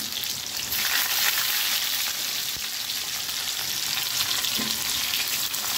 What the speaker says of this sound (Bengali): তেলটা ভালোই গরম, রসুন 2টা নিয়েছিলাম তো একটাই দিলাম